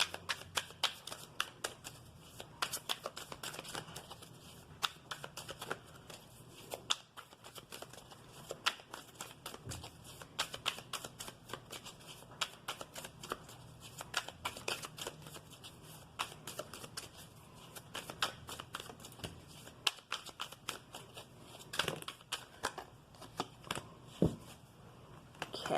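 Tarot cards shuffled continuously for a long stretch, a dense run of riffling snaps and soft slaps, close and fairly quiet with no talking.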